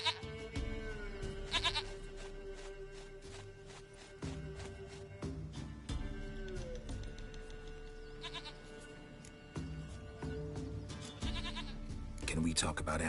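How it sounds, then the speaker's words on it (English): A goat bleats in The Witcher 3 video game, repeated wavering cries set against a rustic game soundscape with spoken dialogue. "Goat of mine, dearest, sweetest goat."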